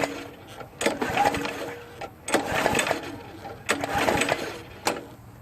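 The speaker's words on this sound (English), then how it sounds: "Let's go ahead and try and start the mower" Repeated pull-start attempts on a lightweight lawn mower that refuses to fire, with three or four bursts of rope-recoil cranking and rattling about a second apart, close and moderately loud, with no engine catching.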